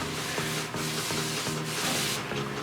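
Paint roller spreading a coat of paint across an interior wall, giving a soft, rhythmic rubbing swish with a steady back-and-forth stroke pattern, close and moderately loud with no voices.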